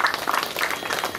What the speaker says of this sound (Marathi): त्यांच्याकरताही एकदा टाळ्या वाजवा.